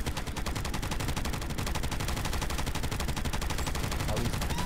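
Rapid automatic gunfire in Borderlands 3 co-op play, a dense, loud, unbroken burst of shots in quick even rhythm lasting several seconds.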